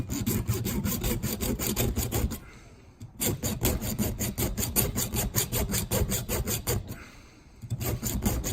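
Cutting a part on a 1984 Honda 250R ATV, a hand tool rasping back and forth in fast rhythmic strokes, loud and close, in three bursts separated by brief pauses.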